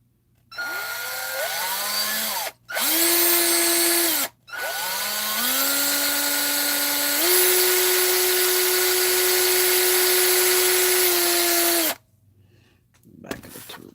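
A small power drill whines in several bursts with brief pauses, drilling into a plastic scale-model car part, its pitch shifting as it bites in, then stops.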